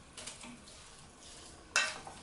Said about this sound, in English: let's give that a good stir.